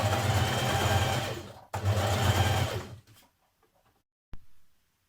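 A sewing machine runs fast along a bulky seam of an unlined coat, two loud continuous bursts with a brief break, then stopping, followed by a single sharp click.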